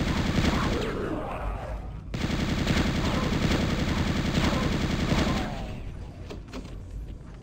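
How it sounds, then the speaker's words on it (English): A Gatling gun fires long, rapid sustained bursts in the video game Chasm: The Rift. The rounds run in a dense stream that stops briefly and then resumes, loud and close. "Now we get our machine gun."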